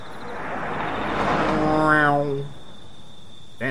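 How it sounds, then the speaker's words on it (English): A fast car in the horror game Terminal Terror rushes past as a swelling whoosh whose engine tone peaks and then drops away, leaving a faint hum before a short click at the end. "Damn, those cars are fast."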